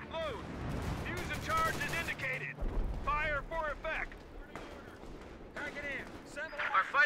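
Company of Heroes 2 battle audio with M114 howitzer artillery fire: repeated booming impacts and gunfire crackle under steady battlefield noise, mixed with radio-style voices talking throughout.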